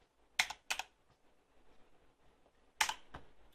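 Keys on a Corsair K70 RGB mechanical keyboard are pressed in a few sharp, close clicks, two quick strokes then a pair more after a pause, in a quiet room.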